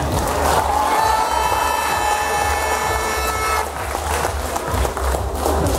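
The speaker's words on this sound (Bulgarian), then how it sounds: "Аплодисменти за тях!" Pageant audience applauding the contestants at an awards ceremony, steady dense clapping and crowd noise filling the whole stretch, with a sustained musical tone running under it for the first few seconds.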